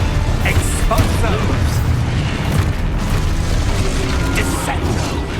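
Spell blasts from Confringo and Expulso in the video game Hogwarts Legacy, loud booming bursts layered over a dense, continuous game soundscape of rumble and mechanical clatter with no pause.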